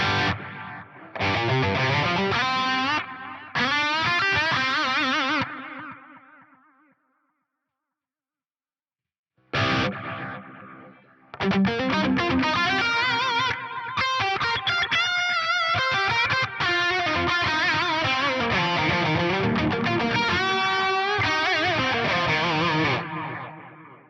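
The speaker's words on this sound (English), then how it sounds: "Have a listen to the delay repeats now." Guitar through an Axe Fx III with delay and a fast, deep chorus, giving warbling, wobbly repeats; loud sustained chords and lines ring out, drop to silence for a few seconds, then return densely with overlapping echoes.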